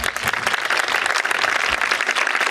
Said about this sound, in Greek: που θέλω να τη χειροκροτήσουμε